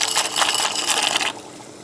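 Turkey legs dropping into a pot of water, giving a loud splashing, sloshing gush for just over a second before it settles to a quieter watery background.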